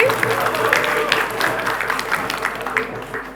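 Audience applause rings out steadily at a high school quiz competition, a dense patter of clapping from the crowd, with a host's voice speaking over it.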